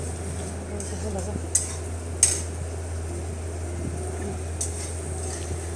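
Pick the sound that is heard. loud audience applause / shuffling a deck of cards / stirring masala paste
stirring masala paste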